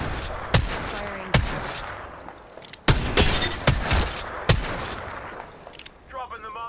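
Gunfire in the video game Apex Legends: sharp, loud gunshots crack out at irregular intervals, some in quick pairs, over a background of game noise, and a voice briefly speaks near the end.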